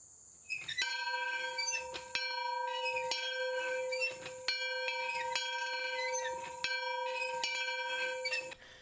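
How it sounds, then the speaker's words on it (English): A single church bell in Sagersville, Kentucky, tolls for lives lost in the pandemic, with eight clear, ringing strikes spaced about a second apart, each one sustaining under the next. "just like church bells and others all across Kentucky, this bell in Sagersville has been ringing for lives lost"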